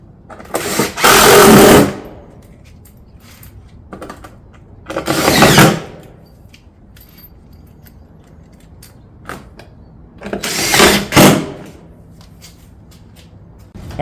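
Shake siding panels fastened down through the top into the sill, three bursts of sharp mechanical rattling and clacking at close range, each lasting about a second, separated by quiet gaps with faint handling noises.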